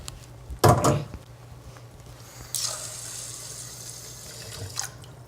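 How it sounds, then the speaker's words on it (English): Tap water running into a rice cooker pot up to the 2-cup line, in a few bursts of splashing flow with quieter pauses between, close and unaccompanied by talk. "we are going to fill up the water to the 2-cup line"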